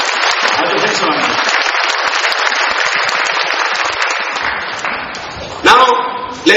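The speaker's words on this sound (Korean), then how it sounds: "Can we clap our hands for these handsome gentlemen?" A church congregation claps for several men, sustained applause with sharp individual claps that fades slightly before a voice speaks briefly near the end.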